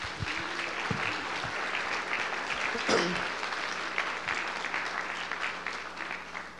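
A church congregation applauding together, steady sustained clapping throughout at moderate distance, with a brief shout or cheer rising in the middle.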